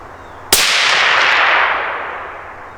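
A single loud, sharp rifle shot fired at a target on a precision shooting range, a sudden crack followed by a long, bright rumbling decay that fades over about two seconds.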